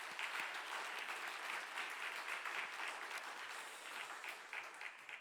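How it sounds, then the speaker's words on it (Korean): A church congregation at a Wednesday evening service applauds the choir, with dense, even clapping that fills the hall steadily and sounds somewhat distant. "한 번 더 격려 박수 보내겠습니다"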